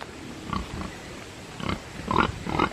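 Pigs oink and grunt in a farm pig yard, several short bursts at irregular intervals over low background noise, fairly close and moderately loud.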